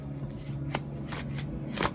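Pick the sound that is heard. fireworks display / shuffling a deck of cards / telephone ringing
shuffling a deck of cards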